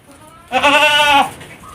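A single goat bleats on a goat farm in Uthai Thani, Thailand: one clear, loud, wavering cry lasting under a second, with quiet farm ambience before and after.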